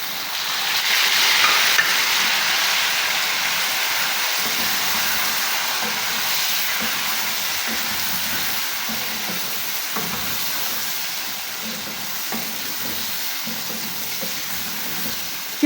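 Tomatoes go into chicken karahi frying in hot oil, giving a loud, continuous hissing sizzle that swells early and holds steady throughout, with faint scraping underneath and no voices.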